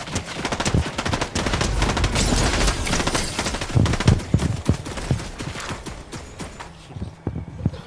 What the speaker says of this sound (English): all you hear is gunfire